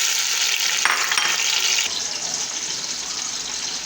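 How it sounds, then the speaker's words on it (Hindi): Chopped tomatoes hit a pan of browned onions, a loud broad sizzle that flares briefly then settles into a steadier, softer frying hiss, with no talk. "अब इसमें कटे हुए टमाटर डाल दें"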